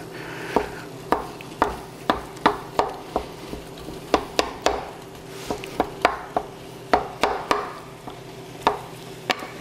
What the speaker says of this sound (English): So browning this with the onions and the garlic is just going to put more flavor into every single bite that you have.